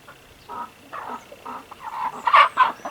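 Broiler chickens let out of their cage, running around and giving a series of soft clucks and squawks in short bursts, growing louder and more frequent toward the end.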